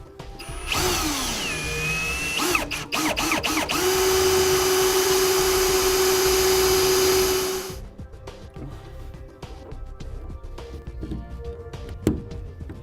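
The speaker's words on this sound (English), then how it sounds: "I'm just going to use a step bit and go right through the center." A power drill with a step bit bores a 3/4-inch drain hole through the bed of a 2017 Ford F-350 Super Duty, whining loud and steady for several seconds before stopping, leaving quieter handling noises.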